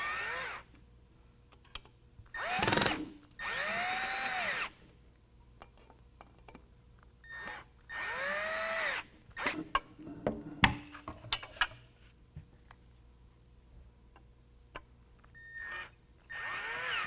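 A power drill drives screws into a Rugged Ridge Voyager soft top on a 2020 Jeep Gladiator, heard as several close, loud whirring bursts of a second or two, each winding up and down, separated by quiet gaps and light clicks.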